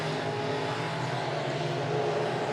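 Race cars roaring down the backstretch at Monett Motor Speedway, a loud, dense, continuous engine drone close by with no pauses.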